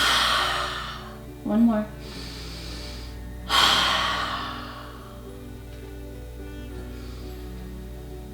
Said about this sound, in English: we're going to inhale deeply, exhale through the mouth 3 times